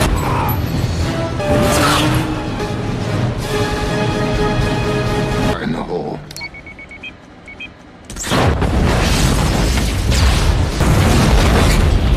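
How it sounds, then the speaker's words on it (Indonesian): Loud booming blasts of a vehicle explosion in a film, with crashing debris, a short quieter gap, then another heavy roaring burst. "namun naas kendaraan mereka meledak"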